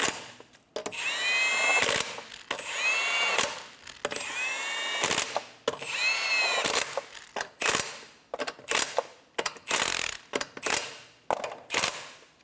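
Lug nuts on a 2007-2012 Nissan Altima wheel are driven tight in a star pattern with a power tool, heard as a string of roughly ten short, sharp buzzing bursts separated by brief pauses, close and fairly loud.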